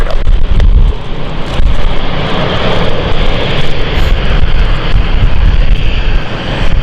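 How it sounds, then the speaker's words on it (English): A passenger jet taxis at London City Airport, its engines producing a loud, steady roar and whine close by, with gusts of wind hitting the microphone throughout. "The aircraft on stand 3, which is now taxiing, that is the Amsterdam flight"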